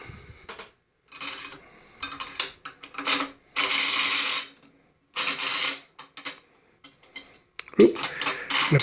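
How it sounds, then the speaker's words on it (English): A screw is driven into the custom slip clutch of a Delta/Ammco metal shaper, giving close, intermittent bursts of ratcheting, clicking metal with short pauses between turns. "So let's get this screw in there now."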